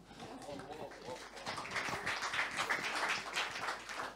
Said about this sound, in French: On peut applaudir Isabelle.